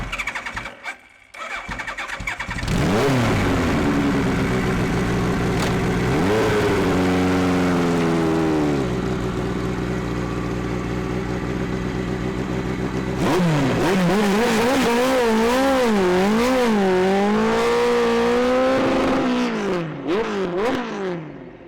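A Suzuki GS1000R XR41 Formula One race motorcycle, the Heron Suzuki bike ridden by Barry Sheene, cranks on its starter, fires up loud and close, then revs in repeated rising and falling blips before settling and revving again.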